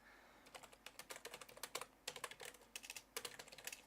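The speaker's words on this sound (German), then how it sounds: "ich hacke wieder auf der Tastatur rum" Quick, uneven bursts of clicky keystrokes on a computer keyboard during a Minecraft gaming session, with short pauses between runs, fairly close and faint, and no talk.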